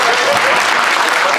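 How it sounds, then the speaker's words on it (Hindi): Steady, dense applause from a crowd at a law meet-up in Raipur, filling the whole moment at even loudness with no break or pause. "ठोको ताली, तारीफ की है"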